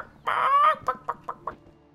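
A chicken in a video game clucks alone: one drawn-out squawk followed by four short, evenly spaced clucks.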